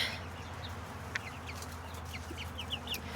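Several backyard chickens cluck in short, scattered calls over steady low background noise, with brief sharper squawks near the middle and end.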